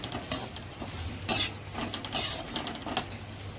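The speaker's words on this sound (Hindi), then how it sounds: "उसे भी हम इसी के साथ में डाल के फ्राई कर लेते हैं, ताकि उसका भी कलर चेंज हो जाए।" Dry fruits and chironji are stirred as they fry in a pan, giving a soft steady sizzle broken by several sharp scraping strokes of a spoon against the metal, with no talk.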